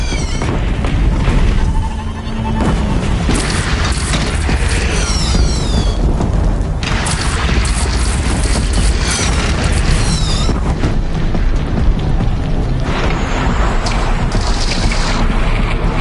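Heavy cannon blasts from a platform in Horizon Zero Dawn, loud booms and bursts ringing out over a dense, roaring, windy game soundscape that runs continuously throughout.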